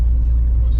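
A Honda Civic with a B20 VTEC engine at a drag strip holds a low, steady rumbling idle-to-rev drone close up, brief and continuous with no talk.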